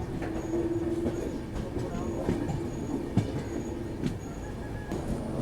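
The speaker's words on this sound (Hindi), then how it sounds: "हमारी ट्रेन जो कि डीजल में चल रही थी अब इलेक्ट्रिक लोको इसमें लग चुका है" A Duronto express train hauled by a colourful Tamil Nadu Tourism liveried WAP7 electric locomotive rumbles steadily from inside, with wheel squeals, occasional rail clicks and faint voices.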